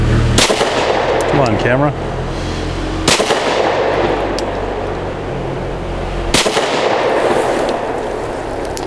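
Three sharp gunshots from a Stoeger STR-9C compact pistol firing lead-free ball ammunition at a range, each loud crack spaced a few seconds apart with ringing decay, while people talk briefly in between.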